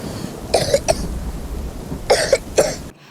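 Dry, rough coughs from the TOXIC Telugu trailer come in two small clusters: a pair early, then three more close together, heard over a low background hum.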